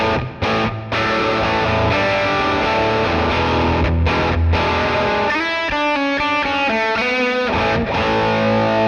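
Heavily distorted electric guitar through a Sonicake Matribox II Pro multi-effects unit rings out loud and sustained, with chords and then quicker picked notes through thick effects.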